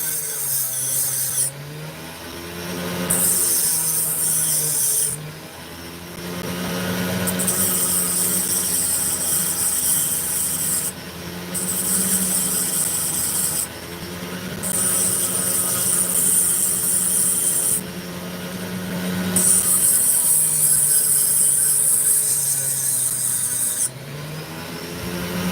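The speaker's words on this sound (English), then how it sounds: "So I'm going to carve through the sand to see what we get." A saw grinds steadily through sandy precursor opal stone, a close, continuous rasping drone that swells and eases in repeated passes with brief pauses between cuts.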